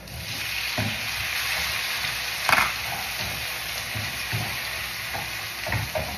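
Tomatoes go into a frying pan with onions already cooking, giving a continuous close sizzle with occasional clunks of a utensil and one sharper scrape or spatter partway through, no talking.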